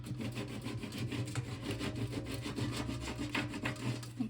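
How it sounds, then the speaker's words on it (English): Scraper dragged repeatedly across a surface while pressing down Halloween decor: faint, close, rhythmic rasping strokes that continue steadily throughout with a low hum beneath. "And then I'll go in with my scraper."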